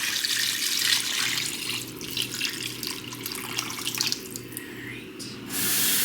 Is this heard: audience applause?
no